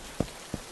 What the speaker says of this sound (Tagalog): Buti na lang malapit na kami dito sa pwesto nyo nung inabutan kami ng ulan.